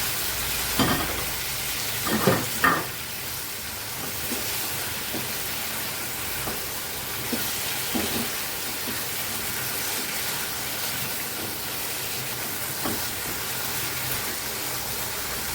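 A vegetable curry with poppy seed, coconut and cashew paste sizzles and bubbles steadily in a pan, with a few scraping stirs and clinks of a spoon near the start; no talking.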